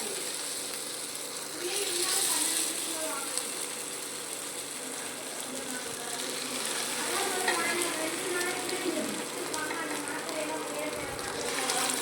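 Viraa fish frying in hot oil in a pan, a steady dense sizzle with bubbling crackle that swells and eases, with occasional faint clicks.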